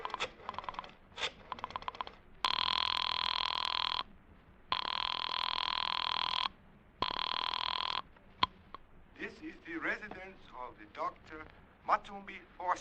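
Radio-drama telephone effect: quick clicks of a number being dialed, then three long loud electronic rings separated by pauses, followed by a voice speaking.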